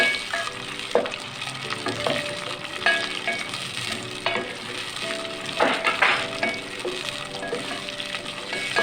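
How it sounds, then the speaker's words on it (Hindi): Onions frying in a cup of cooking oil, cooked to golden for a hotel-style cauliflower sabzi, give a steady dense sizzle with occasional stirring clatters, close and continuous with no talking. "प्याज को नाज़रीन हम गोल्डन फ्राई करेंगे"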